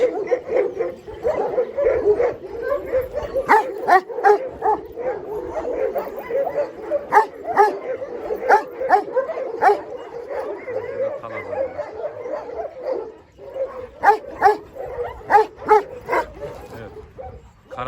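Kangal shepherd dogs bark and yip repeatedly at close range, sharp bursts in irregular volleys with brief whimpers between, while someone talks over them throughout.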